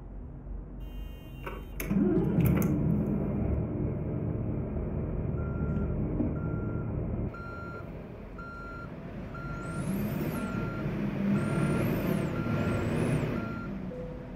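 A Mercedes 1632 NG truck in Euro Truck Simulator 2 has its key turned and electrics switched on, with a click and a hum followed by a steady chain of short, evenly spaced warning beeps over a low idle drone.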